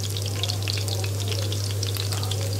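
Chopped green chilies frying in hot oil give a steady, close, crackling sizzle with no voices over it.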